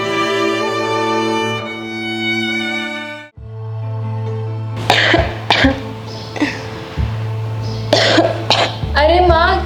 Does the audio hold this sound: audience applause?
no